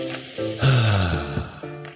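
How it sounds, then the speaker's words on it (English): Gain long-lasting scent booster beads poured into a laundry load, a brief rattling, rustling pour of small pellets, moderately close and alone. "That's the sound of James adding long-lasting Gain scent boosters to his laundry this morning"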